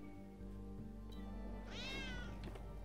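A cat meows in the video game Trials Fusion, one drawn-out, rising-then-falling meow heard clearly over a steady backdrop of game music and hum.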